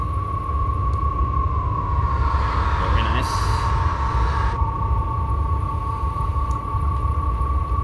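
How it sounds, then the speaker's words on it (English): Simulated S8 stock train running on the Metropolitan Line in Train Simulator 2018, a steady loud rumble with a sustained whine and a brief rising swell midway, continuous throughout. "It does kind of sound like a S8 stock train"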